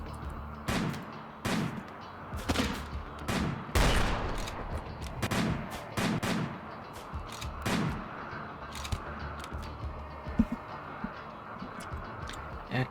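Video game gunfire crackles in repeated sharp bursts and single shots, loud and close, over a busy battle din that never lets up.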